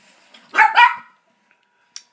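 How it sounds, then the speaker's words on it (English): A dog gives a double bark, close and loud, followed by quiet and a faint short yip near the end. "Sorry, that's Evil Waffle's dog"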